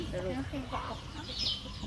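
Farm chickens cluck and chatter close by as they are fed, several soft calls overlapping in a steady flurry, with people talking at the same time.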